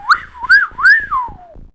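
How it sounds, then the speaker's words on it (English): A person whistles a short, loud, close melody of three rising and falling notes that glides downward at the end. "I can still whistle at the exact same volume"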